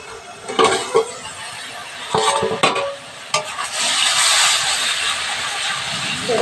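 Spice mixture simmering in a covered pot gives a steady hissing, sizzling bubble, with a few brief clatters of a pan lid or spoon near the start before the hiss swells and holds.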